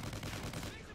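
Gunfire from an online video game match, a dense continuous burst of shots filling the whole second at steady loudness, with a voice faintly mixed underneath.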